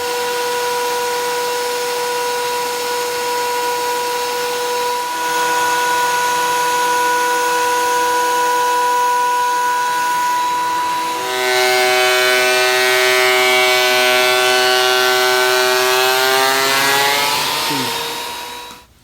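A thickness planer feeds cherry boards through, a steady loud motor whine that rises to a harsher, fuller roar midway as the wood is cut, then winds down near the end.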